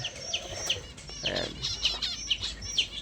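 Pet finches, among other caged birds, give repeated high, thin chirps in quick regular bursts, with a low voice murmuring faintly in the background.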